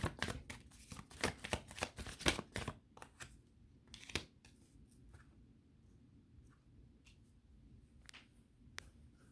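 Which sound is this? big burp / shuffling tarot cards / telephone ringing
shuffling tarot cards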